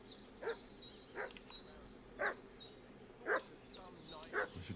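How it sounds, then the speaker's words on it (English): A dog barks repeatedly in a Kingdom Come: Deliverance 2 game scene, about five sharp, evenly spaced barks over a steady ambient background, moderately close. "What's that dog making such a fuss about?"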